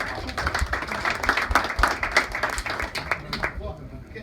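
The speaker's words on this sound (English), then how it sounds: "let's give that a round of applause." A round of applause from a small audience at an office opening event, sharp individual claps close by and clearly separable, rhythmic at first, thinning out and fading toward the end.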